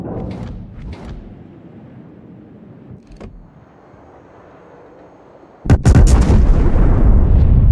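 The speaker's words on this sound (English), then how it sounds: "Provide anti-aircraft fire support" Anti-aircraft guns on the World of Warships battleship Satsuma fire a few sharp, isolated bangs, then erupt into a loud, continuous barrage of overlapping blasts.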